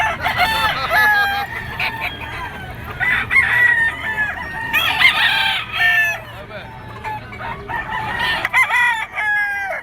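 Gamecock stag roosters, including a white-legged Boston banderado bull stag, crow repeatedly at a market of standing sellers, several overlapping calls rising and falling close by amid a busy crowd with background voices.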